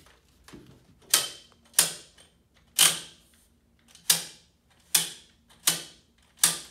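Crutches are adjusted to their highest height, with a series of about seven sharp clicking clacks spaced roughly a second apart, each fading quickly.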